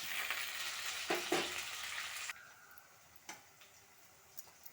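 Onions and fenugreek leaves fry in oil for a brinjal curry, a soft sizzle for the first half that quiets suddenly, followed by a few faint ticks and taps from stirring.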